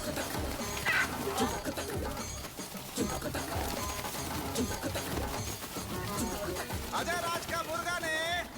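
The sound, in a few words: roosters fighting in a cockfight, movie scene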